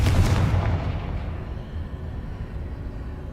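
A Confringo fire spell explodes in Hogwarts Legacy, a single deep booming blast that rolls off into a fading rumble.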